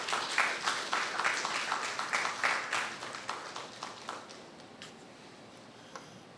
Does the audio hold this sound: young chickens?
no